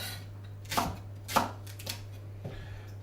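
A knife chops leek on a chopping board for a vegetarian Lancashire hotpot, three or four separate crisp cuts spaced apart, each a sharp thud over a faint steady background hum.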